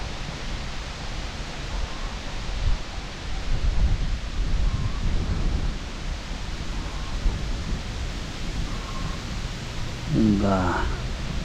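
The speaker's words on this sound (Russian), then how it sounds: "Ветер страшный." Strong wind buffeting the microphone at a lake during autumn fishing from the shore, a loud continuous roar with gusts, and a brief voice near the end.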